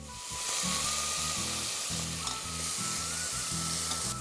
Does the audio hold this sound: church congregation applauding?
no